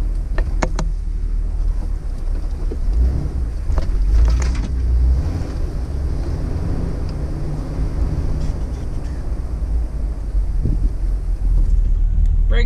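A Jeep TJ engine runs steadily while the vehicle drives around the block, a continuous low rumble with wind buffeting across the microphone throughout.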